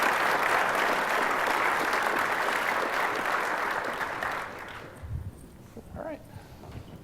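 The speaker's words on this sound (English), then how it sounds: "Let's give these guys a round of applause," Applause from a luncheon audience at a government event, full, sustained clapping from the room for about five seconds before fading out into scattered claps and quiet room noise.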